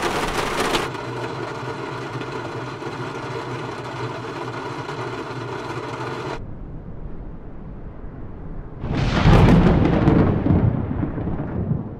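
A droning hum runs for several seconds and then stops. A sharp, loud thunderclap from Microsoft Flight Simulator 2020 cracks near the end and rumbles away.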